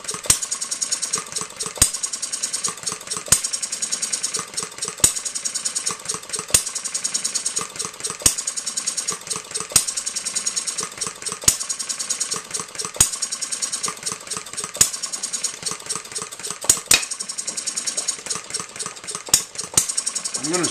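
A hit-and-miss model engine runs steadily, its sharp firing cracks spaced a second or two apart over a continuous rattling, chuffing idle, loud and close.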